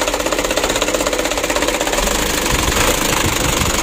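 A 136 PS diesel car engine from 2017, with jelly-like oil sludge, runs roughly after starting, giving a loud, rapid, steady knocking clatter close to the listener.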